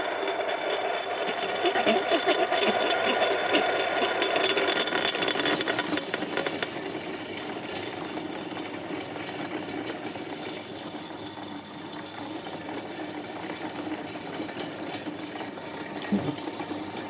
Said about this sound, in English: I'm going to turn on this machine. It's going to be loud.